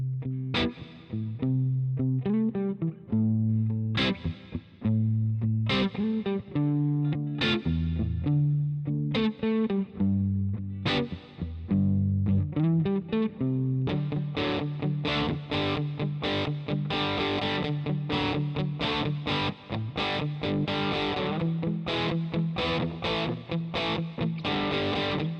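Electric guitar played through a Fender amp with its reverb, a melodic phrase of single notes and chords ringing out with a wash of reverb, then a denser, brighter strummed passage, loud and steady with no talking.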